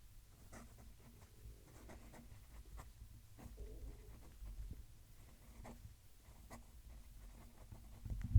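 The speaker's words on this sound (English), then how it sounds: "Let's move down the mic so you can hear the pen write." A Wing Sung 698 fountain pen scribbles on paper in soft, scratchy strokes with a few sharper ticks, recorded close but faint against a quiet room.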